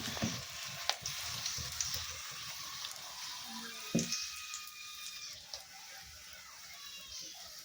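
Soft crackling sizzle of tempering spices frying in oil, fairly quiet and steady, with a few sharper pops and clinks along the way.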